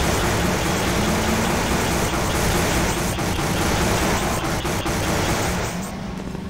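A crane engine in Half-Life 2 runs loudly and steadily, a thick, noisy mechanical roar with low rumble that stays even and eases slightly near the end, with no voices over it.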